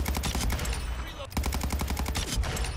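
Repeated rapid gunfire from a Cronen Squall sniper rifle in a shooter video game, loud and close, in quick rhythmic bursts with a short break midway, with faint speech in the mix.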